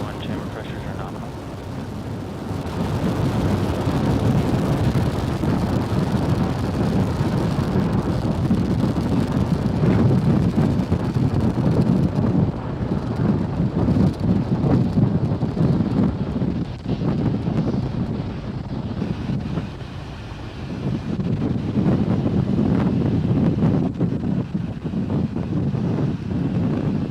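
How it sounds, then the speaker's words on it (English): A Falcon 9 rocket climbs away from pad 39A at Kennedy Space Center, a deep, steady broadband roar rumbling loud and continuous, heavy with low-end buffeting, with a voice talking intermittently over it. "Falcon 9 has successfully lifted off from pad 39A at Kennedy Space Center"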